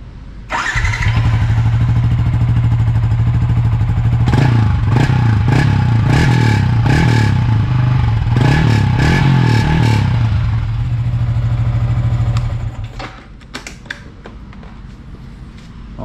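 A Yamaha Y16ZR motorcycle fitted with an Uma Racing back-pressure exhaust idles loud and close, then is blipped through a string of sharp revs before settling back and cutting off, with no talking over it.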